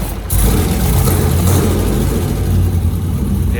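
A Mazda RX8 rotary engine fitted with 180 degree headers idles rough, loud and close, with a deep, lumpy, uneven exhaust burble that pulses continuously without any voices.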